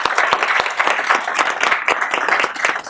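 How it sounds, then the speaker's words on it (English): A modest group claps at a county government work session in a meeting room, with distinct individual hand claps audible in a close, lively patter that stays steady for a few seconds without anyone speaking. "let's give these folks a hand of applause."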